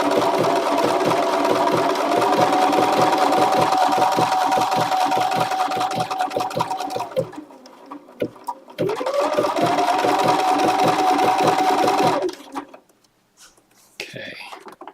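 A Bernina sewing machine stitches a thread combination in two long, steady runs of fast, loud, even whirring, separated by a short pause and followed by a brief quiet stretch at the end.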